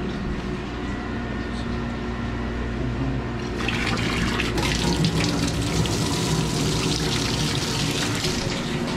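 Water runs steadily from a tap into a sink or container for soaking calcium-clogged HVAC parts in hot water, the flow growing stronger and brighter partway through and continuing without a break.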